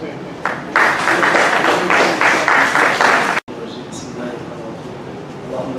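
A conference audience breaks into loud, dense applause to welcome a keynote speaker, the clapping swelling for about three seconds before cutting off abruptly, leaving quieter room noise and faint voices.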